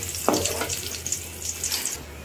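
Chopped garlic pieces sautéing in a little oil, a steady soft crackle and hiss running throughout with a brief clink near the start, close and fairly quiet, no voices.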